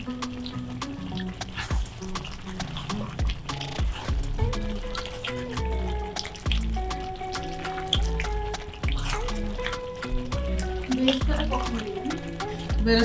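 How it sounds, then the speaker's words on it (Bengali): Beef rezala being stirred in a pan on the stove, with scraping, wet sloshing and soft sizzling in irregular strokes, heard up close. "এখন আমি ভালো করে নেড়ে চেড়ে নামিয়ে ফেলব"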